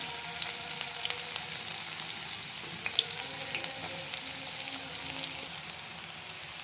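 Small cut onions fry in hot oil in a pan, a steady soft crackling sizzle with faint pops and light stirring sounds, close and fairly quiet throughout.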